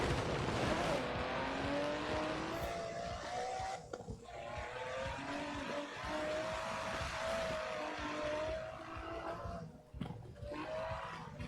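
Aston Martin DB11 with a 5.2-litre twin-turbo V12 driven in Forza Horizon 4, a sustained engine roar climbing in pitch through gear changes with brief dips, under a voice talking.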